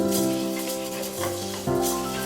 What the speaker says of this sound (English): we are going to let that saute for about 3 minutes or until the onions have softened